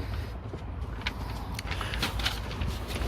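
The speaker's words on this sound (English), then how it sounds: "I'll just move inside so the traffic noise isn't too bad." Steady low road rumble from passing traffic, with a constant wash of noise and faint higher hiss, no voices.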